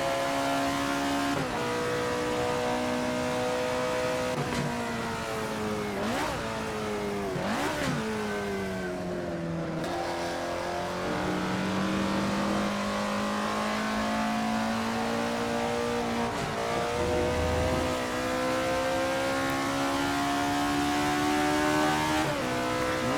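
A vintage Alfa Romeo 33 Stradale race engine in Assetto Corsa, howling steadily at high revs with repeated sharp gear-change dips and climbs, loud and continuous with no talk.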